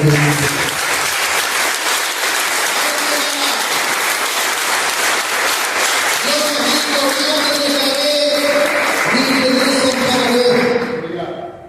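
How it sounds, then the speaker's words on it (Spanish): A church congregation breaks into a big, sustained round of applause during a sermon, steady and full throughout, mixed with voices and held tones. "Un aplauso grande"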